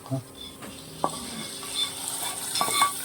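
Cashews frying in a pan for pongal, giving a soft, quiet sizzle broken by a few light clinks and scrapes of a spoon stirring against the metal.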